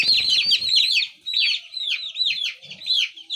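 Chicks in a brooder peep rapidly and continuously, a dense chorus of high descending chirps, close and fairly loud, briefly over a faint rustle.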